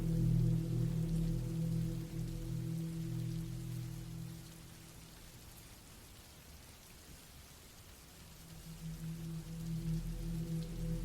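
Steady, heavy rain pours down without pause, a dense wash of drops with a deep rumbling low end that eases a little midway before swelling again.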